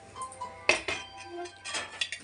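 A kadhai set on a gas stove, heard as a few close metallic clanks and clinks of the pan knocking into place, with quieter handling noise between them.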